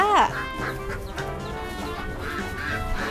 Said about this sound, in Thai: อันนี้จะเป็น เล้าเป็ดนะ จะเป็นไข่เป็ด